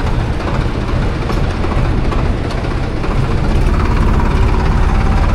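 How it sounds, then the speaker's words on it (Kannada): Riding aboard a tractor: a loud, close engine drone with heavy rattling and clatter that continues without a break, with no voices. "ಈಗ ಟ್ರ್ಯಾಕ್ಟ್ರಲ್ಲಿ ಹೋಗ್ತಾ ಇದ್ದೀನಿ"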